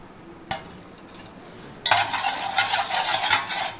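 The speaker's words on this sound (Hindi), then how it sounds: "बर्तन को जो है ना हम हिला लेंगे इस तरीके से" A cooking pot is shaken while Sindhi biryani is layered, giving a bright metallic clatter and rattle that starts with a light tap and turns into steady, close scraping and jostling of the metal.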